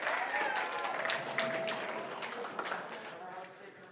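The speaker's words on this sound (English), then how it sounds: "You guys, give him a round of applause." Applause from a room of listeners for a student who just took part, soft, steady clapping at moderate distance that fades gradually, with faint voices mixed in.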